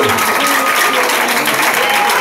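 Wedding guests break into loud, dense, steady applause, a continuous close wash of many hands clapping with a faint murmur of the crowd.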